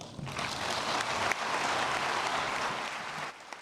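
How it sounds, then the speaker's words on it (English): Audience applause at a startup pitch competition in Kigali, a full, steady burst of many hands clapping that holds at even loudness before cutting off near the end. "Another round of applause, please, for all our speakers"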